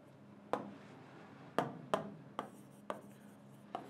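Marker or pen writing by hand in a different colour during a chemistry lesson on ion identification, heard as six sharp, close taps and strokes spaced through a quiet room, with no talk.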